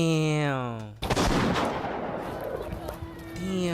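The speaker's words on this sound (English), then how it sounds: "Shortly after the officers leave, a gunshot goes off." A single gunshot goes off sharply in a played recording of a police incident, a loud crack cutting off a voice, followed by chaotic shouting and talking that continues over noisy background.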